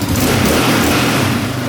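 A quad ATV engine revs up and holds high, a loud, steady, close roar across the whole short stretch.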